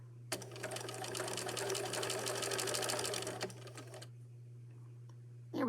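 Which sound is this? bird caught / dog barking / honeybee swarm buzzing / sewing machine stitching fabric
sewing machine stitching fabric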